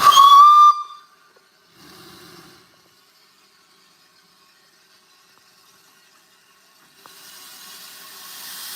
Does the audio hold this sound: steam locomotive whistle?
yes